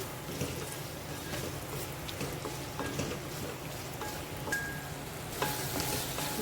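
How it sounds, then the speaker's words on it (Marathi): Scrambled egg being stirred with red chili sauce and soy sauce in a frying pan gives a continuous soft sizzle with scattered spoon clinks and scraping taps against the pan, close up and without talk. "हे सर्व व्यवस्थित मिक्स करायचं आपल्याला"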